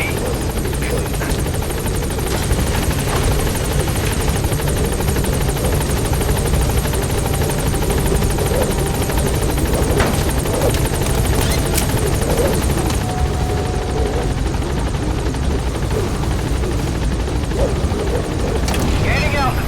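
Pequod, the support helicopter in Metal Gear Solid V, flies close by with a loud, steady rotor thrum and engine whine that holds for the whole stretch, while radio-style voices talk over it.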